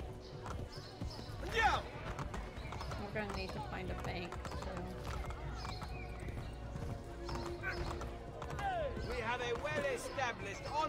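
Horse hooves clip-clopping in Assassin's Creed Brotherhood, a rhythmic run of hoofbeats mixed under game music and effects while someone talks over it.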